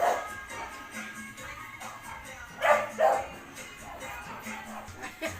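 A dog barks a few times at a distance, short sharp yaps amid quiet outdoor background noise.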